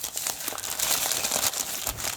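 Plastic packaging crinkles and rustles continuously while a fun package is unboxed, a close, busy scrunching with no pauses and no talk.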